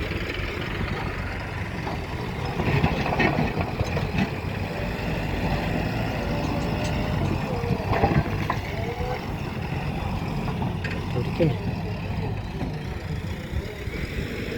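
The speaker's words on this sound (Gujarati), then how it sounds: "એક ટ્રેક્ટર આવે છે બીજું અહીંયા" A heavy tractor engine idles with a steady low rumble and occasional louder swells, close by and continuous throughout, at a site where a JCB loads black soil into tractors.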